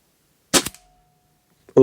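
A single sharp air rifle crack as a pellet is fired at a target 30 metres away inside a caravan, followed by a brief ringing tone and quiet, with another shot beginning at the very end.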